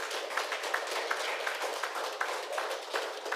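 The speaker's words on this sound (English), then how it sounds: "Clap, clap, clap." Audience at a business event applauding, a steady patter of many hands clapping, faint and somewhat distant, with a few sharper individual claps standing out and no talk over it.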